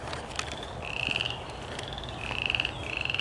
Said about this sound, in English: there was a bullfrog in there